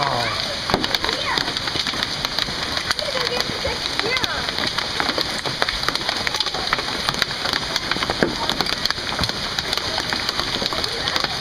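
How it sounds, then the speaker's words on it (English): Large hailstones pour down in a dense, steady hiss and clatter, with scattered sharper impacts throughout, close and loud; people talk over it. "that is the biggest hail I've ever seen"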